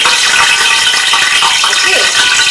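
Whole spices, two cinnamon sticks, star anise, four cloves and cardamom, fry in oil in a pan with a steady, loud hiss and crackle that goes on throughout.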